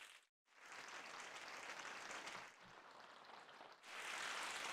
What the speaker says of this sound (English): So wherever you press the key, you get applause.